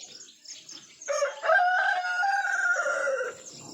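Chickens on a small farm by a nesting box, with a rooster crowing loudly and steadily in the foreground after a few softer clucks and chirps, no talking.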